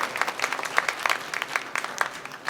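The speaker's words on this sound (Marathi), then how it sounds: "सूत्रसंचालक तिघांसाठी जोरदार टाळ्या एकदा होऊ द्या" An audience at a state-level literary conference and ghazal evening applauds the three hosts, a dense, lively patter of many hands clapping, close and sustained without talk.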